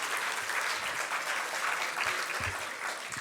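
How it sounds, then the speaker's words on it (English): Audience applause at a cooperative hall of fame induction ceremony, steady even clapping from a large room, fairly faint and distant, with no speech over it. "a round of applause."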